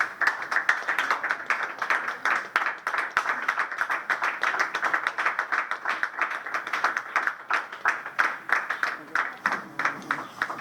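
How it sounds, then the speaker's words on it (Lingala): A crowd claps steadily and continuously to greet an arriving Congolese music artist at a press conference, dense even applause throughout with voices mixed in. "Avec des acclamations hein, pour l'encourager."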